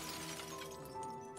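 The collector's face shatters like a mirror in the game Dredge, a single glassy crash whose tinkling fragments ring on for about a second.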